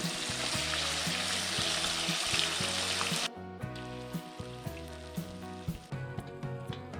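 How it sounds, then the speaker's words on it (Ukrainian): Chicken legs fry with onion and marinade in a kazan, giving a loud, dense sizzle that cuts off abruptly partway through, followed by quieter crackling, all under a steady repeating background tune. "все вигружаємо туди і підсмажуємо з усіх боків"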